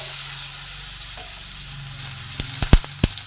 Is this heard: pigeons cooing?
no